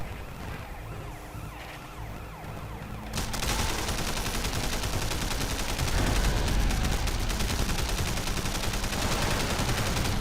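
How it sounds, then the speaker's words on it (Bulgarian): Gunfire in the video game Sleeping Dogs while shooting at terrorists, a dense continuous wash of rapid shots and explosive noise that grows louder a few seconds in, with sirens blending into the din. "По някакви терористи трябва да стрелям."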